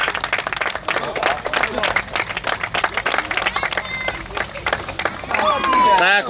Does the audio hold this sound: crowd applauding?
yes